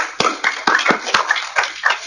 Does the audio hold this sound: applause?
yes